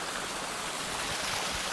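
A waterfall in snowy Alaska pours in a steady, dense rush of water that fills the whole clip without pause.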